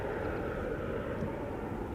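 A jet airliner takes off from Schiphol's Polderbaan runway, a steady, loud roar of engines close by with no other sounds.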